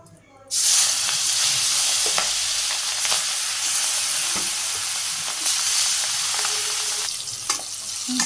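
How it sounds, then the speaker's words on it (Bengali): Fish coated with turmeric, chili and salt sizzles loudly in hot oil in a wok. A sharp, hissing fry bursts in within the first second and keeps crackling steadily, close to the pan, with no talk. "মাছ ভাজা হয়ে গেছে"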